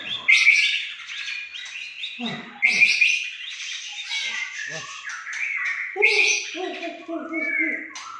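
Loud, varied song of a white-rumped shama close by: rich whistled phrases, rapid chirps and trills in bursts, with a low voice briefly underneath.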